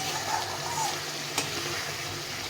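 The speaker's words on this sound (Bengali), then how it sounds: "ভালোভাবে মশলার সঙ্গে রসুনটা কষে নিতে হবে আস্তে আস্তে" Garlic sautéing with spices in a pan gives a soft, steady sizzle with one light clink of a utensil, close but fairly quiet, with no one speaking.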